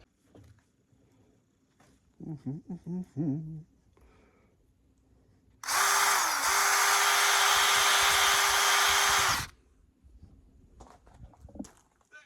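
A loud, continuous whine of a power drill runs for several seconds, preceded by brief knocking and followed by quieter handling noises.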